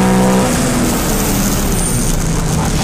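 Race cars in a Nippon Challenge round at Pembrey circuit, a loud, steady engine roar filling the whole clip, close and continuous with no talk.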